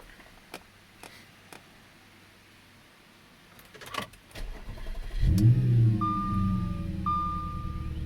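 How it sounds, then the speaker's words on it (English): An Audi S5 engine cranks and fires after a few faint clicks, rising to a brief rev and then settling into a steady, rumbling idle close by, with a chime sounding twice. "Let's go ahead and start the car."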